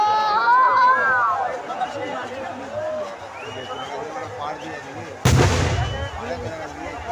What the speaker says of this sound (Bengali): আর এখানে পুকুরের মধ্যে জল বোম ছাড়া হয়, বেশিরভাগ জল বোম।